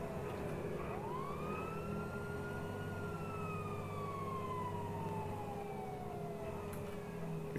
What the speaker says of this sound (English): We can turn our sirens off now